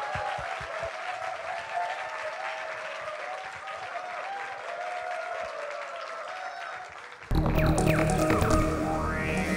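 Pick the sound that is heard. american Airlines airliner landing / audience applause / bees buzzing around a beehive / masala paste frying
audience applause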